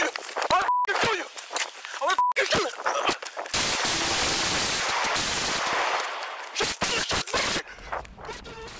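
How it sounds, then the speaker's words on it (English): Gunfire during a police-involved shooting on a Chicago street, captured on police video: several sharp bursts and a dense stretch of loud, chaotic noise, with shouting voices and scuffling movement throughout. "they exchanged gunfire twice with Brown"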